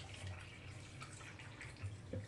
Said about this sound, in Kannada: 1 ಕಿಲೋಕ್ಕ ಈಗ ನೀರು ಹಾಕ್ತೀನಿ.